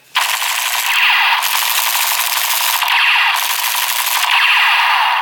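Toy revolver gun firing an electronic sound effect, a loud continuous rattling burst with a pulsing, repeating pattern close to the listener, lasting several seconds with no talking.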